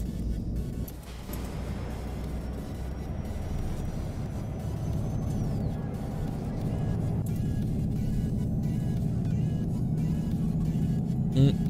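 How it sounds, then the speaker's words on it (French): A Solaris Urbino bus driving in Euro Truck Simulator 2 with a steady, loud engine drone and road noise throughout. It is braking on its own while accelerating, and the pitch shifts slightly midway. "Mon bus il est en train de freiner tout seul alors que j'accélère"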